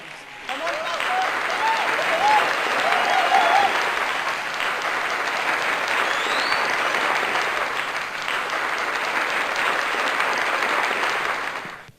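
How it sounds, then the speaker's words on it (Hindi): An audience at a Hindi church gathering claps loudly and steadily to welcome a speaker, sustained applause filling the room for most of the stretch before fading at the end. "तो बड़े जोरदार तालियों से हमारे बहुमूल्य दास डॉक्टर विकास जी कांबले का स्वागत करेंगे प्रभु यीशु के नाम से।"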